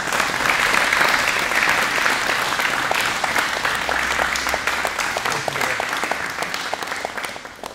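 A crowd at a jiu-jitsu purple belt test claps for the training partners, continuous dense applause that holds steady and then fades slightly toward the end, with no voices over it.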